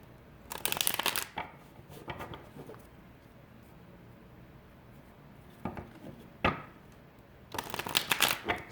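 A deck of stiff tarot cards is shuffled in several quick riffling bursts, with quieter handling and soft card flicks in the pauses between them.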